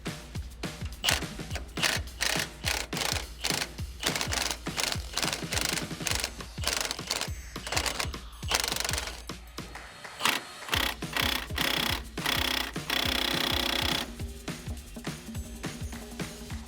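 Ratchet loosening 18mm engine mount bolts underneath a Porsche 996 911: a long series of close, sharp, rapid clicking bursts with brief pauses, fairly loud throughout.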